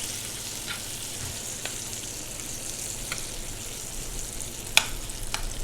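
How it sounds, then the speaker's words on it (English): Assorted mushrooms sear in melted butter in a restaurant kitchen pan, giving a steady, close, even sizzle throughout with a few faint clicks and a brief sharper tick near the end. "This is more of a sear."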